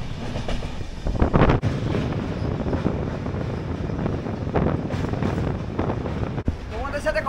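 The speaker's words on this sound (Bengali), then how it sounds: "কোলাঘাট রেল ব্রিজ দিয়ে আমরা যাচ্ছি" The Kandari Express, running from Digha to Howrah, crosses the Kolaghat rail bridge at night. Heard from on board, its wheels rumble and clatter steadily with strong wind noise, and a voice is briefly audible.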